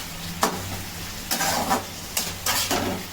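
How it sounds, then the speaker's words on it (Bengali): Mutton being sautéed with salt and sugar in a pan, with soft sizzling and intermittent scraping stirs, about four short bursts of spoon contact over a steady low fry. "অল্প করে একটু নুন আর একটু মিষ্টি এতে দিয়ে দেওয়া হচ্ছে। একটু করে কষিয়ে নেওয়া হচ্ছে"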